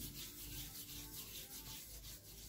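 Exfoliating scrub rubbed over hands, a steady close, grainy rubbing that continues without pause, with no talking.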